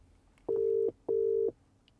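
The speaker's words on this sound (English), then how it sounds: "It's a UK ringtone. It's ringing." A UK ringback tone on an outgoing phone call sounds as two steady buzzing pulses in quick succession, then a pause. It is clear and prominent with no voices.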